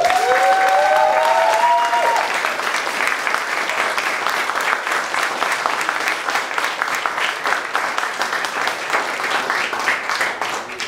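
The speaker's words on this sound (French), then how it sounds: "Je pense qu'ils méritent d'ores et déjà nos applaudissements pour cet accomplissement qui est un véritable exploit." An audience applauds graduating web development and data analytics students at a demo day in Nantes, dense sustained clapping filling the room throughout, opening under a short tonal flourish of music.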